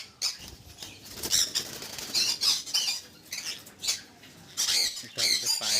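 Pineapple conures and yellow-sided conures in a home aviary flap their wings and give repeated sharp squawks, close and fairly loud, in irregular bursts with short pauses between.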